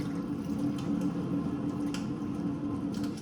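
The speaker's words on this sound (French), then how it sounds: "Faut mettre 1 litre d'eau." Water running steadily into a Thermomix bowl, about a litre poured over the blades while making butternut squash soup, a continuous close splashing stream throughout with faint drips and no talking.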